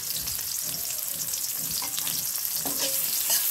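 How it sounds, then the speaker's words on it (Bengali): Chopped onions fry lightly in a pan, giving a steady, loud, crackling sizzle that carries on without a break. Nobody speaks. "পেঁয়াজ কুচিটা হালকা করে ভেজে নিচ্ছি।"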